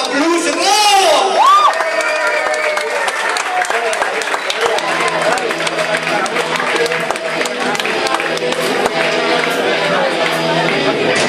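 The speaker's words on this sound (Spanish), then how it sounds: "vamos a recibir que fue un fuerte aplauso" A crowd at a blues rock band's concert claps and cheers loudly, with whoops and shouts over sustained applause as a voice calls out at the start and the noise carries on steadily.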